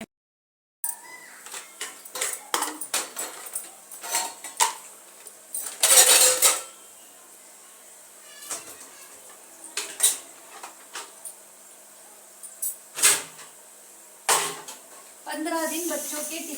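Kitchen utensils and stacked tiffin boxes handled at close range in a home kitchen: irregular metallic clinks, knocks and clatters in quick clusters, with a few louder scraping bursts and brief quiet gaps between.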